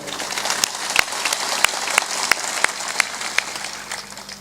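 Audience applause at a spiritual discourse, a dense patter of many hands with sharper individual claps standing out, steady and moderately loud for a few seconds before easing slightly.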